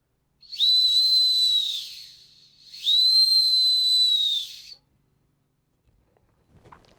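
Reconstructed early medieval antler whistle from Wolin, Poland, blown in two long shrill piercing tones, close and clear, followed by silence and a faint rustle.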